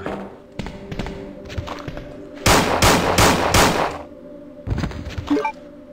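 A burst of rapid gunfire, several sharp shots in quick succession, stands out between quieter clicks and thuds of game action in Resident Evil 2 on PS1.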